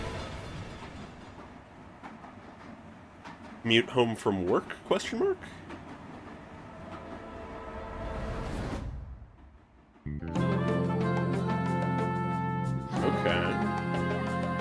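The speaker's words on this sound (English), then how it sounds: "Okay, sound of train." A train sound cue within Zenless Zone Zero music, rumbling and clattering with rising mechanical noise, followed by a sustained tonal passage, with a voice speaking over parts of it.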